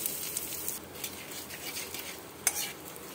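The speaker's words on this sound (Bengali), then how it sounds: "এবার আমি তেলে জিরে, শুকনো লঙ্কা, তেজপাতা আর হিং ফোড়ন দিলাম।" Cumin, dry chillies, bay leaf and asafoetida fry in hot oil as a tempering for squash dalna, giving a faint, steady sizzle with light stirring scrapes and a sharper crackle near the end.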